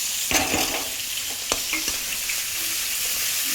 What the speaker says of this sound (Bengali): দিয়ে আবারও আমি সুন্দর করে কষে নেব। আদা রসুন পেঁয়াজ একসাথে সুন্দর করে আমি